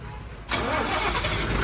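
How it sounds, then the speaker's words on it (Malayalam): A truck engine cranks and catches after a short quiet moment, then settles into a steady, rumbling idle close by while building air pressure. "ഈ സമയം കൊണ്ട് നമ്മൾ വണ്ടി ഒന്ന് സ്റ്റാർട്ട് ചെയ്ത് എയറൊക്കെ കയറ്റി ഇട്ടേക്കാം"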